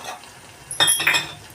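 Dried fenugreek leaves get stirred into a frying egg and tomato curry, a quiet sizzle broken by a short burst of spatula scraping against the pan.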